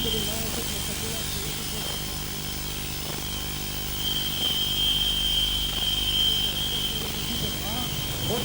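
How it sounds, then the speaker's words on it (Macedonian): Mi-17 military helicopters flying over an Army day parade, a steady broadband rotor and turbine roar with a sustained high whine, growing slightly louder midway, with a commentator's voice over it. "хеликоптерите од типот Mi-17 настапуваат"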